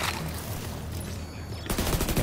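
Rapid automatic gunfire from The Division 2 rattles continuously and close, dense bursts running together before a sharper, more distinct volley near the end.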